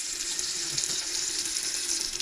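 Water runs steadily from a tap in a tiny Paris apartment, a continuous bright hiss that holds even throughout without pauses.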